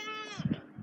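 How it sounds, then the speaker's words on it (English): Goats bleat close by during morning feeding, giving a couple of short, wavering calls in quick succession. "And here's the goats, and they are ready to go do some grazing today."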